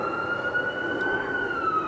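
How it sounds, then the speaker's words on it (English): Loud emergency siren passing outside a room, a steady wailing tone sliding slowly in pitch, heard indoors over low background noise. "there's a loud siren"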